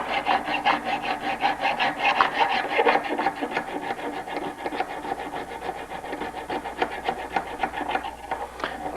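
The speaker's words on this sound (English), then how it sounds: "Do a little bit of left-hand filing here so you can see it." Hand filing on a steel bicycle frame lug, left-handed, taking a small burr off the top: a steady run of close, rasping back-and-forth strokes in an even rhythm, alone and fairly loud.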